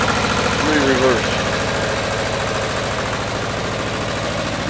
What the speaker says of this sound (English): Little 2-cylinder diesel.